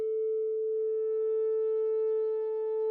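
A steady A4 tone from a SoundSphere synthesizer holds for three seconds at an even level, with faint upper harmonics fading in partway through.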